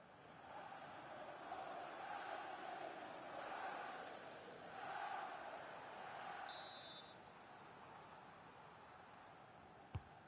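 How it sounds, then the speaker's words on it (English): A football video game crowd reacts to a corner kick with a broad, distant roar that swells and fades in waves, ending in a short sharp click. "Well, the crowd know that set pieces could be their best chance. Just listen to that reaction."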